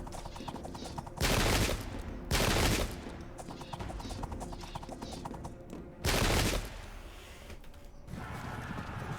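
Gunfire during the Battle of Imjin River in the video game Sengoku Jidai. Three loud, dense volleys burst out over a continuous battle din of scattered shots and galloping hooves.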